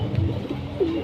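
A pair of pigeons cooing close by, a soft low burst followed by one clear rolling coo, brief and quiet against faint background noise.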